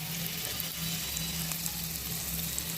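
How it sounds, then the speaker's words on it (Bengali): Onions sizzling in hot oil in a kadai, a dense, even hiss of frying with a faint low hum beneath it and no voices. "পেঁয়াজটা লাল লাল করে ভাজতে হবে।"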